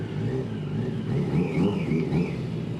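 Custom-built 1980s 70HP Yamaha engine revving hard in first gear, a loud, close, rising and falling mechanical whine with a buzzing growl underneath.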